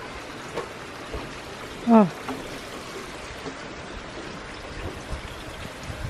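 Heavy rain falls outdoors in a steady, soft hiss with scattered drips, while a single short voiced exclamation rises briefly over it.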